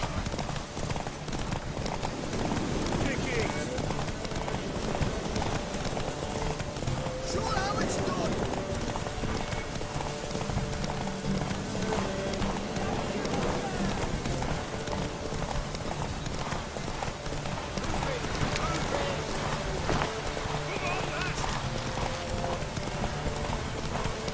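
Horse hooves clip-clop continuously at a brisk running pace in The Witcher 3, dense and persistent throughout, mixed with game music, crowd ambience and voices talking.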